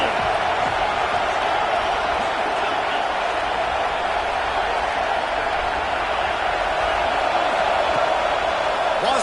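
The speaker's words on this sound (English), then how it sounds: "This crowd ready to make its presence known" Football stadium crowd at a game against Alabama: a steady, dense roar of many voices cheering and yelling that holds without a break throughout, loud and distant-sounding.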